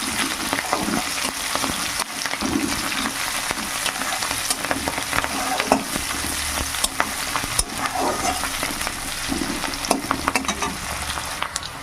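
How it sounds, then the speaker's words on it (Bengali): Chopped chilies and onion fry with garlic in a pan for a leafy greens dish, a steady close sizzle with scraping stirs rising and falling throughout, no voices. "এবার এখানে আমি মরিচ আর পেঁয়াজ কুচি দিয়ে দেবো একটু ভেজে নেবো লাল লাল করে"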